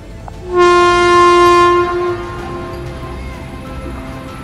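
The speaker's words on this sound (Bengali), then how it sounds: "আমাদের এক্সপ্রেস ট্রেন এখন হাওড়া স্টেশন ছেড়ে বেরিয়ে আসছে।" A long, loud train horn blast from a Vande Bharat Express leaving Howrah station sounds for about a second and a half, then fades into the steady rumble of the moving train.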